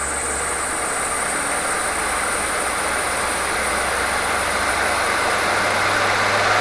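A dirt bike CDI test fixture runs at 6,000 RPM, producing a loud, steady mechanical whine and rush with a low hum beneath it, close and unbroken throughout.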